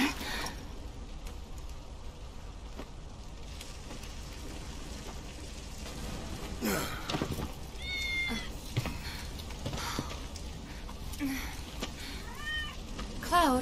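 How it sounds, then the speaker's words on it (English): A cat in Final Fantasy VII Remake lets out several short meows, a couple of them drawn out, over a soft patter of rain, with quiet game voices and sounds around them. "Good kitty."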